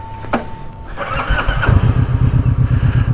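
Close by, a Kawasaki Vulcan Vaquero motorcycle engine cranks and catches, then settles into a loud, lumpy, rhythmic idle with deep pulsing thumps.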